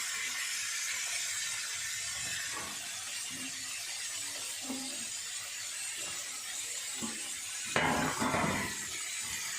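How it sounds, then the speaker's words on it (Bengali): Yardlong beans (borboti) frying in a pan in a home kitchen, a steady hissing sizzle throughout with occasional faint clinks and a brief louder scrape near the end. "ও বরবটি, এইসব বরবটি, ওই বরবটি ভাজছি।"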